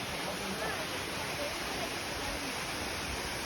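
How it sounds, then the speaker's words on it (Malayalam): Steady broadband rush of falling water, constant and full, from a nearby waterfall on the trail to Tiger's Nest in Paro, Bhutan, with no breaks or variation. "ഇവിടെ നല്ലൊരു വെള്ളച്ചാട്ടം കാണുന്നുണ്ട്"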